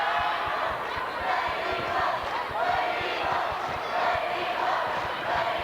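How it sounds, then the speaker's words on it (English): Riverton crowd chanting in a rhythmic, repeated cadence to rally their team at a 2003 Illinois IHSA girls Class A basketball quarterfinal against Chicago Hope, loud and sustained in a gymnasium with sharp ball-bounce thuds. "The Riverton crowd chanting for their team, trying to get them going."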